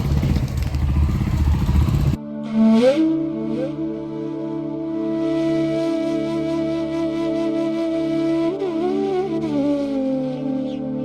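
A motorcycle engine idles and revs nearby as it rides slowly into a hotel parking area in Kalimpong, its steady hum rising and falling, with a few clanks and scrapes after a brief burst of noise.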